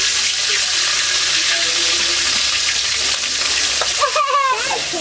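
Packet spice masala frying in hot oil in a village home kitchen, a steady loud sizzle throughout with stirring scrapes near the end.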